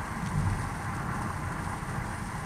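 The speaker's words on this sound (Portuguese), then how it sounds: "Aqui tá chovendo muito no Ceará." Heavy rain in Ceará, Brazil, heard from inside a moving car, a dense continuous roar of downpour on the vehicle over a low steady engine and road rumble.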